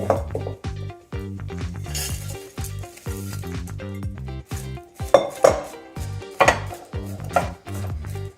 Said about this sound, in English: I am just pressing down with my spatula into the pan to make sure everything is coming together